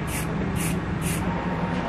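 A can of spray paint hisses in repeated short bursts, about three sprays with brief gaps, close by over a steady low background hum.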